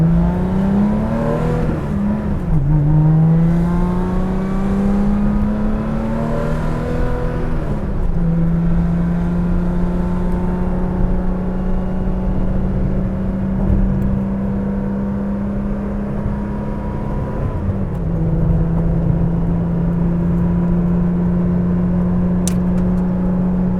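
A 1983 Porsche 911 Safari engine drones inside the moving car, with pitch sweeps as it revs and shifts gears in the first seconds, then holds a steady cruising hum with a couple of further dips.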